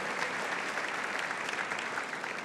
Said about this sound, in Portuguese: Irmãos, não aplaudam a mim, aplaudam o Rei dos Reis